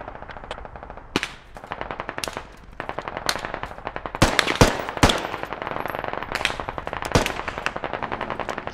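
Rapid automatic machine gun bursts in the tactical shooter Squad, with sharp louder shots cutting through a steady rattling stream of fire and distant gunfire throughout.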